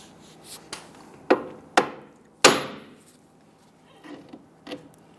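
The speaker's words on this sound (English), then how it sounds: "we're going to use a hammer and strike this here." A handful of hard hammer blows on a steel suspension knuckle of a 2011-2021 Jeep Grand Cherokee, irregularly spaced, the middle strikes loudest, followed by quieter knocks and a faint scrape.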